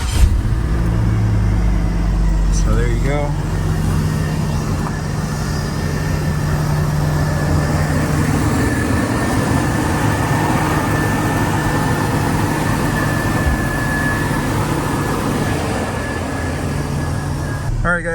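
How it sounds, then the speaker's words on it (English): A 2011 Chevy Colorado pickup with a 3.7L five-cylinder engine, just fitted with new spark plugs and coils, cranks and then idles with a steady, even low drone. Someone speaks briefly over it. "we're gonna start the truck"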